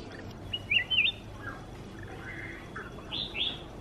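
A Chinese hwamei songbird gives short, clear whistled phrases in two bursts, fairly near but moderately soft over quiet outdoor background, with no talking.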